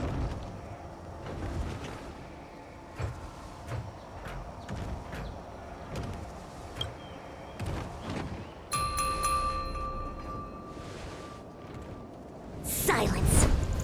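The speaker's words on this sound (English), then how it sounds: "We could try ringing the harmonic chime" Harmonic chime rung in a fantasy video game, a clear sustained bell-like tone with a few ringing partials entering partway through and holding steady over soft ambient background and footstep-like ticks, before a louder burst at the end.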